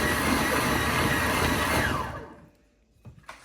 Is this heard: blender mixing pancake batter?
yes